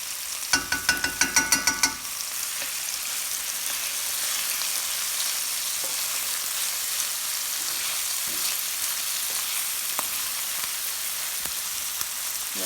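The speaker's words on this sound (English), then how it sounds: "Now I'm going to add the onions and garlic, my handy dandy red chili paste." Onions, garlic and red chili paste hit hot oil in a 2.5 quart Le Creuset French oven, opening with a burst of loud crackling clatter before settling into a steady, close, continuous sizzle.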